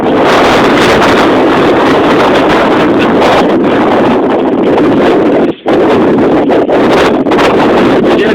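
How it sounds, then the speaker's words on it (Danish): Strong wind buffets a rooftop, roaring hard and steady against the microphone with only a brief lull partway through. "Der er god vind, jo!"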